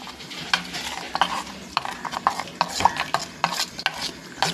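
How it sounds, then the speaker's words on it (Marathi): Batter of water and turmeric being whisked by hand in a bowl, a steady run of soft scraping and tapping strokes at close range with no talking. "पाणी टाकून मिक्स करून घेते मी व्यवस्थित."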